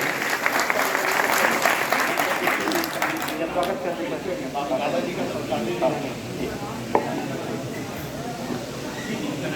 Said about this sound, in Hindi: जोरदार तालियों से अभिनंदन और स्वागत करता हूं।